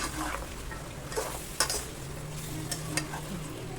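Boiled mutton is stirred into a frying goat head curry, a soft sizzle broken by scraping spoon strokes and light clinks against the pan.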